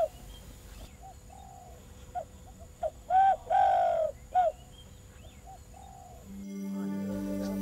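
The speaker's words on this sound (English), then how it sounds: "According to Muhammad Shah, spotted dove lovers from Malaysia, Singapore and Indonesia are willing to spend their money just to hear the bird's melodious voice" A spotted dove coos in a Southeast Asian jungle setting, a few soft close hoots that build into louder, longer sustained coos, then short trailing notes, over a faint steady background hum.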